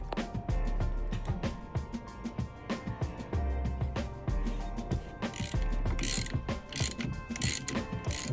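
A ratchet wrench working the steering wheel nut on a Chevy Bel-Air gives close, rhythmic clicking in repeated bursts of quick strokes with short pauses between.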